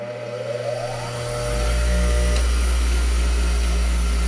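Bench grinder switched on after being plugged in: a click, then the motor spins up within about a second into a loud, steady low hum with a constant whine, running alone without talk.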